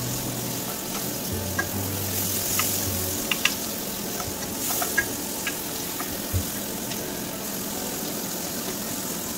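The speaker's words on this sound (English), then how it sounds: "So I saute first the garlic until it becomes soft, and then I add the mushroom." Garlic and mushrooms sauté in an oiled pan for a mushroom and tuna pasta, producing a steady, close sizzle throughout with a few light utensil taps and a low background hum.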